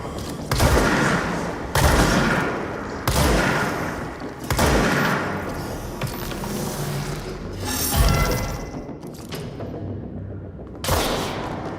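Shotgun blasts from the video game Control boom out loudly at a steady pace, roughly one heavy shot every second or so, each with a sharp crack and a rumbling tail over continuous combat noise.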